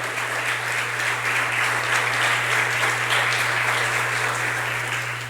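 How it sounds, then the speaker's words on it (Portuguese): Sustained, dense applause from a church congregation during a sermon, loud and steady throughout, with a constant low hum underneath. "Aplauda ao Senhor, meu irmão."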